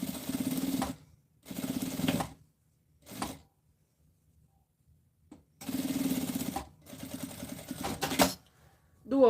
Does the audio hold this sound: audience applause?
no